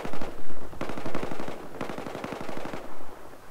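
Rapid automatic gunfire in Battlefield 4 close-quarters play on the Lancang Dam map, loud sustained bursts of closely spaced shots broken by brief gaps, with no talking over it.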